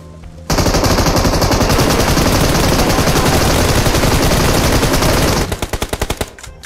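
In a PUBG Mobile match, a continuous loud burst of automatic gunfire rattles for about five seconds, then breaks into a few separate shots as it tapers off.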